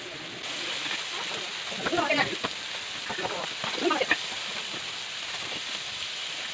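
Food fries in hot oil in a home kitchen where crab curry and quail eggs are being cooked, making a steady hissing sizzle under a person's talking, with a few louder crackles.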